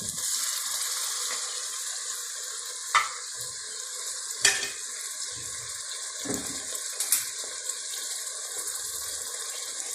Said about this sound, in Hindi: तो साथ ही दही डालती हूँ